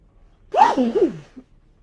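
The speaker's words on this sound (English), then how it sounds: "that is 2 sneezes." A single loud, close sneeze bursts out sharply, followed by a brief quiet breath afterward.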